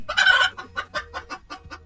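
A chicken clucking in an animated children's story, a loud opening squawk followed by a quick, even series of short clucks, close and alone.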